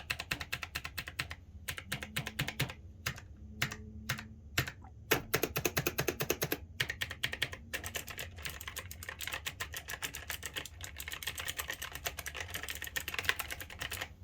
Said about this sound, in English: This is the Logitech G512 Carbon with the GX Blue clicky.